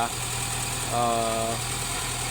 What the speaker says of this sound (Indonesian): atau mesinnya masih dalam posisi hidup ya teman-teman ya